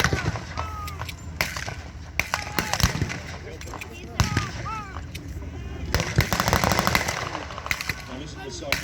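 An MG42 machine gun fires during a Tankfest 2021 early-WW2 battle reenactment: rapid, tight bursts of very fast gunfire crack out at intervals, with someone talking over and between the bursts.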